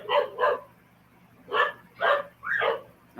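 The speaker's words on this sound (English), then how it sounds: "our dogs are going crazy again" Pet dogs bark excitedly indoors in short bursts, two quick barks, a pause, then three more close together, loud and near with no talk over them.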